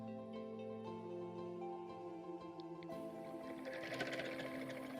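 A sewing machine stitches a hexagon quilt border, its motor whirring steadily near the mic, then speeding up into a louder, busier run of rapid needle strokes.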